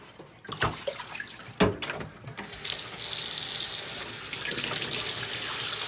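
A human hair wig is rinsed under running water: a few knocks and handling sounds, then a tap gushes in a steady, loud rush into a sink.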